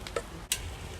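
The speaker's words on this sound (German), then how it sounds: "Das brutzelt schon ganz ordentlich." Cubed meat and onions sizzle in a cast-iron Dutch oven over a campfire while goulash is being cooked, making a steady, close frying hiss with a brief stirring scrape in the middle.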